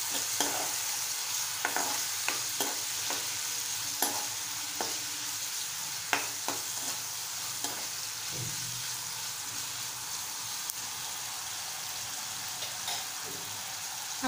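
A spatula stirs soyabean chilli sauce with vinegar in a pan, giving continuous close sizzling with a steady series of light scraping taps throughout.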